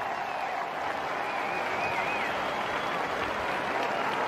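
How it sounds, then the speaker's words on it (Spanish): A crowd at an outdoor Armed Forces Day parade in Huesca gives continuous, dense applause, a steady roar of many hands clapping at a distance with no pauses. "Escuchamos los aplausos del público."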